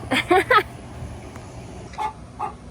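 Young chickens not yet old enough to lay cluck a few times in a barn converted from a goat milking space, with short close clucks at the start and softer ones later over low background hum.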